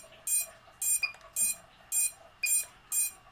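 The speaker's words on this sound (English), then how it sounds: "And turn the beep off." Repeated electronic beeping from a Pavo 25 V2 drone with its throttle stick down, six evenly spaced sharp beeps close by with short gaps between them and no other sound.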